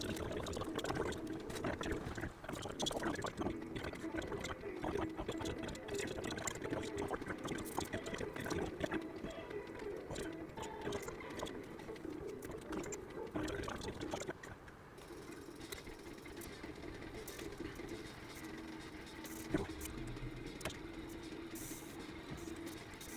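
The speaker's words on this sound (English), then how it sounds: "I'm going to spend 5 minutes or so cleaning the airbrush." Airbrush being cleaned after painting a 1/72 B-2A Stealth Bomber model, a hissing, spluttering spray with liquid gurgling and pouring textures, fairly quiet and close, changing character midway.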